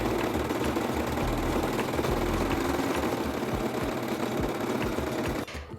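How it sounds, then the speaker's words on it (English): A sewing machine runs steadily, stitching and finishing a seam on a ruffled kimono jacket, its motor humming with a fast even needle rhythm close up, stopping abruptly near the end. "Finish the seam with an overlocker or zigzag stitch."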